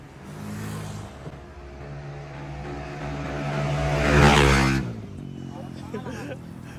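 A car's exhaust revs during street tune testing, a rumbling idle that climbs into a loud rev, peaks and drops back down, with people talking over it.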